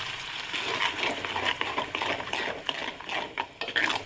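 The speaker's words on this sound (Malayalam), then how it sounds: "പിന്നെ കുറച്ച് വെള്ളം ഒഴിച്ചിട്ട് ഒന്ന് ചുറ്റിയെടുക്കുന്നുണ്ട് കേട്ടോ" Sardine curry with a little added water being stirred in a pan, a steady scraping, sloshing stir with utensil clinks against the metal, close and continuous for the whole stretch with no talking.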